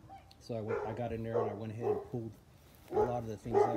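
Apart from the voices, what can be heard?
dog barking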